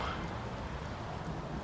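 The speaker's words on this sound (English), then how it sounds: "don't question the rain" Rain falling as a radio drama sound effect: a steady, dense hiss of downpour at a constant level, unbroken and with no voices over it.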